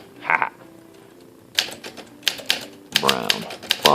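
A 1958 Olympia SM3 manual typewriter, fully refurbished, being typed on in short bursts of crisp, sharp key strikes and clacks, close and loud, with a brief pause early on.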